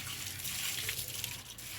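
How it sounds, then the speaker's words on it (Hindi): Water is poured onto potted plants on a rooftop, a faint continuous splashing trickle heard briefly with no talking. "इसलिए अपने पौधों को पानी दे के जाती हूँ।"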